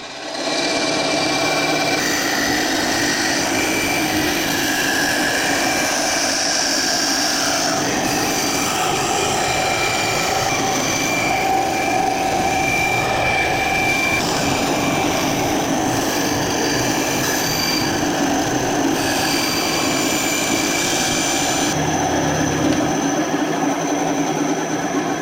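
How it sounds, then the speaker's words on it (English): A bandsaw cuts out a large wooden musky fishing bait in a workshop, a loud continuous whining roar with a high screeching edge that holds steady for about twenty-five seconds. "So now I'm going to move over to the bandsaw."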